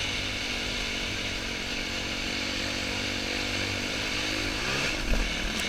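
A motorbike rips fast down a dirt trail, its engine holding a loud, buzzing, high-revving whine with constant wind rush, ending in a brief bump or clatter.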